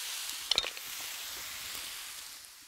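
Reheated ratatouille vegetables sizzling in a hot frying pan with no added oil, a steady bright hiss, with a quick cluster of utensil scrapes and clicks early on, then the sizzle continuing alone.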